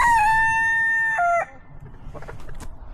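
A rooster crows loudly and close by, one long drawn-out call, followed by a few softer clucks.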